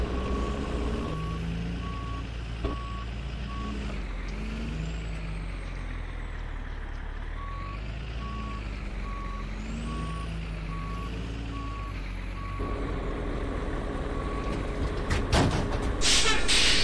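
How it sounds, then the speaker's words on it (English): A truck in a farming video game sounds steady reversing beeps while backing up to hook onto a trailer's neck. The beeps come in a regular, clear rhythm over a low engine rumble, with an air-brake hiss near the end and no talk. "now we'll just back up, get hooked onto the neck and the trailer"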